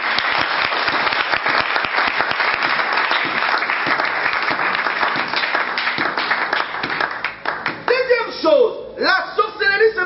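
A church congregation breaks into loud, sustained applause and clapping, dense and continuous for most of the stretch before thinning into scattered claps and voices near the end.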